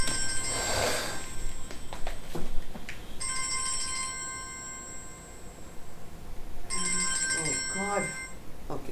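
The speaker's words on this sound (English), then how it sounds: "I forgot to switch my phone off again." A mobile phone ringtone chimes in two separate bursts of a repeating electronic melody, with faint background noise between and no speech over it.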